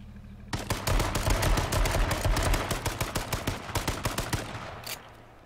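A long, rapid burst of automatic gunfire in a video game rattles loud and close, individual shots spaced evenly before tapering off near the end.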